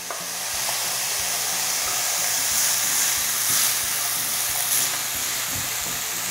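Garlic sautéing in a hot pan, a loud continuous sizzle and hiss with occasional stirring scrapes and soft clinks, no voices.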